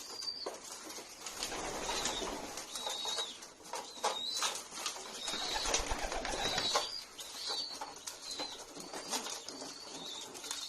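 Racing pigeons at a loft coo softly and repeatedly while being fed, with wing flutters and scratchy movement mixed in throughout, fairly close and moderately quiet.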